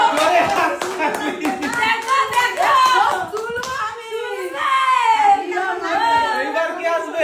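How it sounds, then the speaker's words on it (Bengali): Loud, fast hand clapping from a small group, sharp claps packed tightly together, mixed with excited voices chattering and calling out over it. "দেখো জোরে হাততালি"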